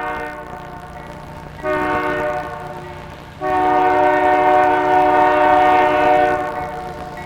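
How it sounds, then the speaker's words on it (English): A long Grand Trunk freight bound from Toronto to Flat Rock, Michigan, led by a GE wide-cab locomotive among three units, sounds its loud chiming horn in two sustained blasts, the second longer, over a low rolling rumble of the passing train. "just in time to catch this train from Toronto to Flat Rock"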